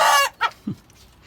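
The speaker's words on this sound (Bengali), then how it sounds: "মোরগ খুব ডাকাডাকি করতেছে" A rooftop-kept native rooster gives a short, close, loud crow, followed by two brief clucks and then quiet.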